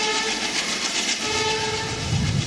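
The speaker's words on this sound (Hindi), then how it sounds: "रेल शुरू भी हो गई।" The Patliputra–Lucknow superfast train starts off at a Bihar railway ceremony, a loud, close steady rail rumble with a sustained horn-like tone throughout.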